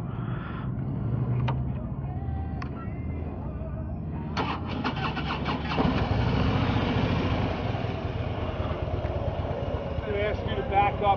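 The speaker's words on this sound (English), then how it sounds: "Now that I know how to start the Harley Davidson, I shouldn't have a problem." A 2016 Harley-Davidson Road King motorcycle engine cranks and starts, then settles into a loud, throbbing idle. Voices can be heard over it at the start.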